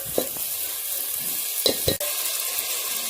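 Sliced tomatoes sizzle steadily in a pan while a spoon scrapes and stirs in a few short strokes, close up and with no speech.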